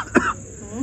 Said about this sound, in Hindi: मुझे खांसी है,